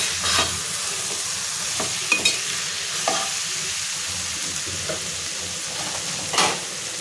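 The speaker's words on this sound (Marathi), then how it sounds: "ती कोळंबी टाकून घेऊया। व्यवस्थित मिक्स करून घ्यायचं आहे।" Washed prawns are stirred into a dhaba-style prawn biryani in a pan. A steady sizzle runs throughout, broken by scraping strokes and a few spoon knocks against the pan.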